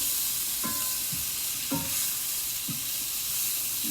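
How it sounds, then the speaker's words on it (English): Mushrooms sautéing in a new pan, a constant close hiss of sizzling fat with several soft scraping stirs spaced about a second apart. "Look how that sautés."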